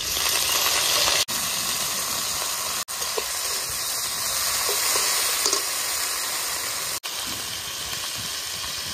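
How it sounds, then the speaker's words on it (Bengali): Dried prawns dropping into hot oil with garlic give a steady, dense sizzle and hiss that runs throughout. A few faint scrapes sound underneath, and brief cuts break the sound. "এখন আমি তেলে চিংড়ি মাছটা দিয়ে দেবো।"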